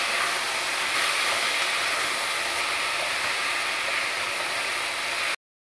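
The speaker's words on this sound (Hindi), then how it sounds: "और सभी को अच्छे से मिक्स करके हम भूनेंगे" Fried rice with leftover rice, poha, potatoes and chickpeas roasting in a pan gives a loud, steady broadband hiss that holds unbroken for over five seconds before cutting off abruptly.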